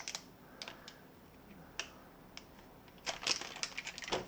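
Scattered sharp plastic clicks and snaps, close by, ending in a quicker cluster of crackly presses.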